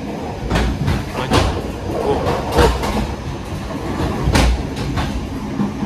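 Steady, loud rumble and rattle of a train dining car on the KA Pasundan New Generation rolling along the tracks, with clacking bursts rising above the continuous noise.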